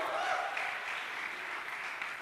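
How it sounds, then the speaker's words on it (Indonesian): Audience at a high school student fellowship leaders' retreat session applauding for God, a steady wash of clapping from a gathered crowd throughout. "Kasih tepuk tangan buat Tuhan kita."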